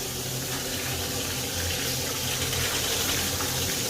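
Tap water runs continuously into a sink as raw chicken is washed, a steady broadband splashing rush without pauses.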